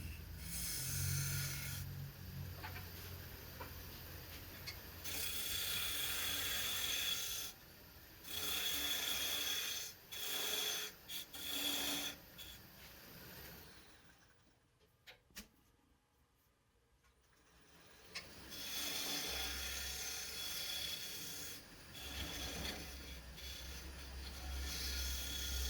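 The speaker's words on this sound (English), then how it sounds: "So I'm going to start with a parting tool here, make a nice shoulder on it, and dovetail it in just a little bit" A parting tool shaves a maple blank spinning on a wood lathe, giving a steady rasping scrape in long passes that stops briefly as the cut pauses, then resumes against the lathe's low hum.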